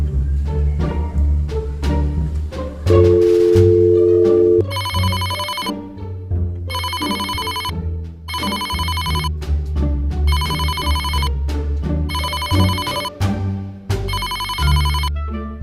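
A phone ringtone chirps in repeated bursts with short gaps, loud over a thumping background of music.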